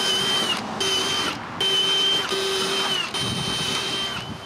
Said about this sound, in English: This time around, I drilled the mounting holes at home.